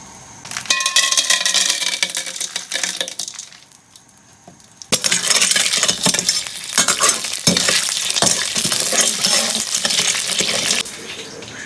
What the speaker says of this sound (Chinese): 锅中加油，炒个汤色